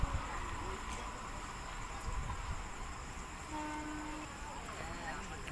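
A train arrives at a station platform with a steady, fairly faint rumble and hiss that runs throughout, a thin squealing tone partway through, and faint voices in the background.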